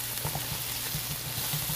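Food sizzles and caramelizes in a hot pan, a steady close crackling hiss with small popping bursts throughout and no voices.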